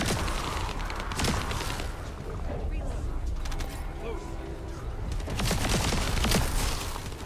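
Explosions from the thunder cage weapon in the shooter video game The First Descendant, a series of dull booming blasts and bursts amid game noise, moderately quiet, with a voice talking over them.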